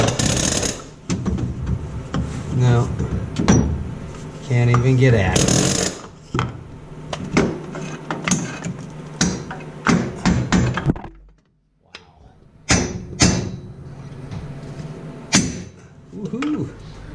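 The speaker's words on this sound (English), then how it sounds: "Hammering at it from this side's probably not ideal either" Sharp metallic hammer strikes and clanks ring out at a snow blower mount on a Simplicity tractor. The blows come in irregular bursts with ratcheting and rattling between them and a brief quiet gap midway, while someone talks intermittently.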